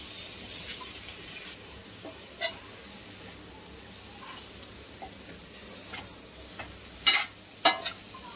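Potato and pea bhaji being stirred in a pan, with a low, steady sizzle broken by a few sharp scrapes and clicks of the spoon, the loudest near the end.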